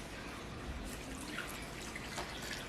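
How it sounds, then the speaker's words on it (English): Warm water poured into a bowl with yeast for proofing gives a soft, steady trickle with faint drips, quiet and alone. "And I've got half a cup of warm water."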